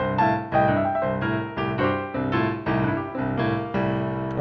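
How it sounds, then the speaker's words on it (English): Blues piano riff played over a rolling left-hand bass line, repeating chordal phrases in a steady, bouncing rhythm with low bass notes under bright treble; close, full and continuous, with no voices. "So with a left hand bass line,"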